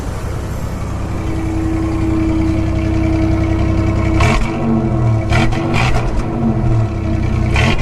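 A second-generation Toyota 4Runner engine runs at a steady, loud idle up close, then gets several quick throttle blips that rise and fall in pitch, with no talking.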